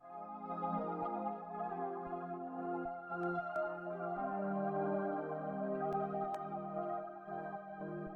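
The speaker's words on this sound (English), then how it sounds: "So both my pads, being dynamic, moving a lot, sounds like this right now." Two dynamic synth pads run through ShaperBox tremolo and filter shaping hold soft, sustained chords that waver gently, with a few faint clicks, playing alone at a low level.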